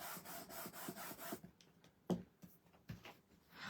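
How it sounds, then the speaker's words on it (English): A press pop tool rubs and burnishes paper on a shaker card with soft, close scraping strokes, first in quick repeated rubs, then in a few slower, separate swipes and taps. "I'm going to use my press pop to burnish that."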